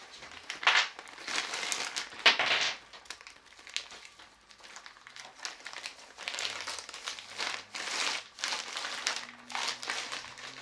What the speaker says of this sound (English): put it back into its plastic bag